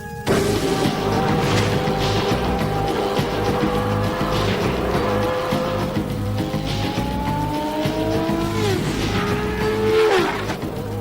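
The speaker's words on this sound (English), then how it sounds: "the defining property of a Formula One car: the ability to corner at almost unbelievable speed" Formula One car cornering at high speed, a loud sustained high-pitched engine whine with pitch sweeps as it shifts and brakes, tire squeal mixed in, continuous for the whole stretch with no voices.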